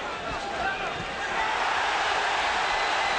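A boxing arena crowd at a heavyweight bout between Andrew Golota and Danell Nicholson roars in a steady, swelling wash of cheers after a left hook, with a commentator talking over the noise.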